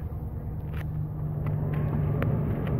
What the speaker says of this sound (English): I feel so small when I drive my truck.